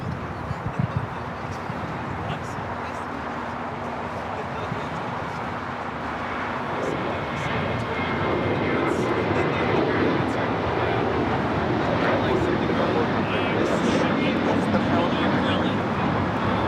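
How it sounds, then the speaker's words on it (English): An American Airlines Boeing 737-800 departing Los Angeles International for Las Vegas rumbles in the background, its jet roar swelling midway and holding steady, with people chatting nearby throughout. "That was American Airlines flight 2654 heading to Vegas"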